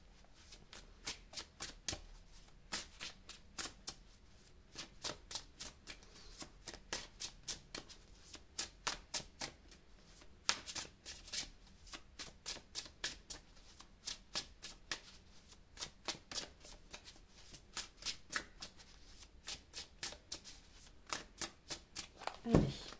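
Tarot cards are riffled and shuffled over and over, a rapid run of crisp close flutters and slaps repeating in bursts throughout, fairly quiet, with a few faint words of speech.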